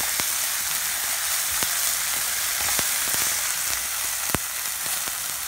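Paneer bhurji sizzles and fries steadily in a pan, a constant hiss broken by several sharp scrapes and clicks of a spoon being stirred through it, close and fairly loud with no voices.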